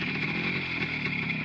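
Motorcycle engine running steadily close by with a rough, buzzing mid-pitched drone as a beginner rider applies a little throttle, no clear rev climb, alone without talk.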